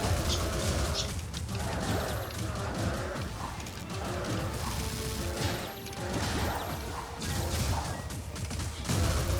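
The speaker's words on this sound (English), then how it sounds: "this is the first time my birds have gone this crazy since we moved in" Pet birds call and chatter excitedly indoors, a busy mix of loud squawks and chirps over rattling mechanical clicks, continuing for several seconds.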